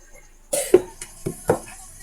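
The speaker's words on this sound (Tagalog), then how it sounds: "ubo ka na naman ng ubo" Several harsh coughs in a row from someone close by, a rough burst followed by three or four more spaced hacks over about a second and a half.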